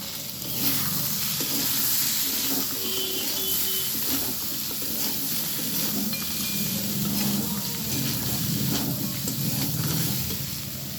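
Crabs that were fried earlier hit a pan of spice masala cooked down for a Bengali crab curry, giving a steady close hissing sizzle with soft stirring scrapes throughout.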